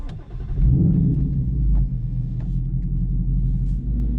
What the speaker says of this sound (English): fire up the car